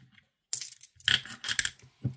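Close metallic rattling of loose euro cent coins being shaken and sifted in a box, in several quick bursts with brief pauses.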